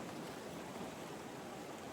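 Ocean waves wash in a soft, continuous hiss of surf, faint and even throughout, with no voices.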